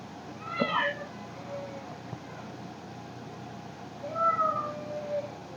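A cat meows and cries outdoors in two separate bursts, a drawn-out call near the start and another wavering cry toward the end, moderately close against a faint background hiss.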